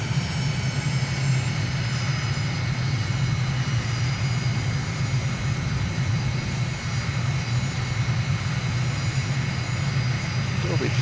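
A light aircraft on landing approach with gear and flaps extended and throttle pulled back: a steady, loud, droning engine and propeller roar filling the cabin without pause.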